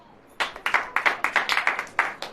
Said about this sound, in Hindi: ताली बजाएं।